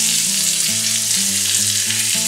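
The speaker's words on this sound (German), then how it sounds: "Jetzt gebe ich ein schönes Stückchen Butter dazu, lasse das in der Pfanne schmelzen." Butter and onion slices frying in a pan, a steady loud sizzle and crackle filling the short stretch alone, with faint tonal hum layered beneath it while Rehwild liver and kidneys are prepared.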